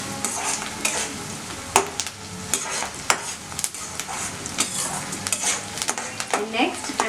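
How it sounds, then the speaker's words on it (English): Mutton keema samosa filling with soft, golden onions fries in a pan, a steady sizzle broken by repeated sharp scrapes and clinks of a spoon stirring against the metal, close and fairly loud. "Let us fry it well."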